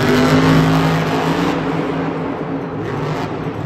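A Monster Jam monster truck engine revs hard and loud at an arena event in Miami, a roaring, rising throttle that holds for a few seconds before easing into a steady, slightly quieter drone.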